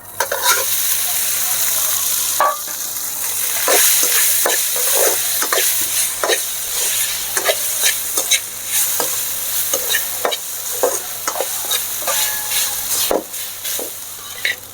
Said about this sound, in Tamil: இந்த கரம் மசாலா கொட்டிக்கிட்டு அது கூட இந்த சாப்பாட்டை கொட்டிடலாம்.